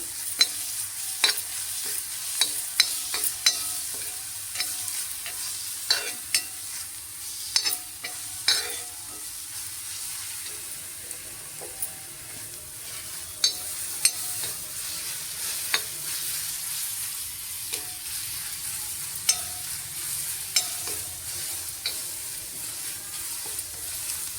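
Chopped onion frying until reddish in a pan for Marathi brinjal bharit gives a steady close sizzle, broken by frequent sharp spatula scrapes and taps against the pan throughout.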